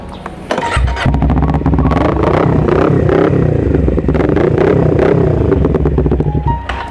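A modified motorcycle engine fires up and revs hard nearby, a loud rough rumble with clattering bursts that rise and fall over several seconds, filling the whole stretch.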